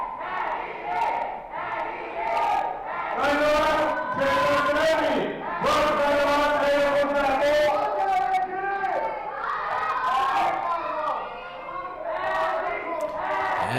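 Wrestling fans in the audience shout and chant for the wrestlers at a Hungarian pro wrestling event, a loud, continuous crowd roar with rising cheers and swells throughout, some voices standing out.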